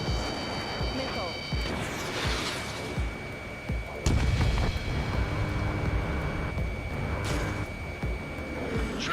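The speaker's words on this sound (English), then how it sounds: "I've got you now. Firing! Missile." Missiles launch from a fighter jet in Ace Combat 7, sharp whooshing bursts at intervals over a constant roaring engine drone, with radio chatter running throughout.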